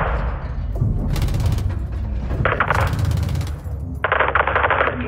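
Gunfire in the Call of Duty Modern Warfare 2 campaign: loud bursts of rapid automatic fire in several separate volleys, with crisp cracks layered over a low rumbling battle background.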